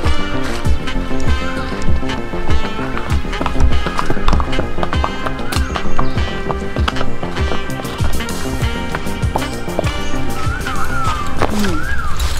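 A horse's hooves clip-clop steadily on hard ground as it is walked home on a summer day, near and loud, in an uneven rhythm of many quick steps with a voice talking in places.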